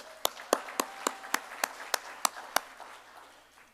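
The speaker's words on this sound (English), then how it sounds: "How about a round of applause for English teachers?" Applause for English teachers from a convocation audience at SAC in 2024, heard as about ten sharp, evenly spaced claps that sound like a few nearby hands rather than a full crowd, fairly faint over a low hum.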